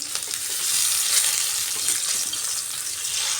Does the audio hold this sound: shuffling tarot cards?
no